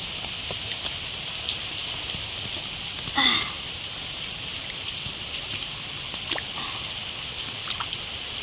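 Rain falls on a rooftop in a steady, even hiss, with scattered drips and light taps throughout and one brief clatter partway through.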